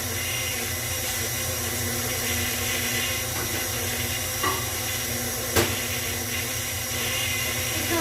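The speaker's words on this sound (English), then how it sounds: "I'm going to heat up my coffee, my espresso" Steady hiss of steam while heating espresso coffee in a home kitchen, continuous and fairly loud with a faint clink or two partway through.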